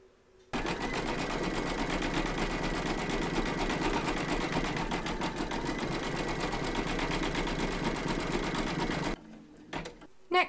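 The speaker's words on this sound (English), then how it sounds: "Pop your hoop into your machine and stitch round number 4, and that's going to zigzag around the top of the hive" An embroidery machine zigzag-stitches around the top of an appliqué beehive held in its hoop, a loud, steady, rapid whirring hum running continuously for about nine seconds before stopping abruptly, followed by a few faint clicks.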